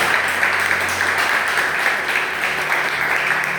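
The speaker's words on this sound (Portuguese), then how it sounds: "Dá uma salva de palmas para o Senhor nessa noite." A church congregation applauds in a loud, sustained wash of clapping that fills the room evenly from start to finish, close and dense without a break.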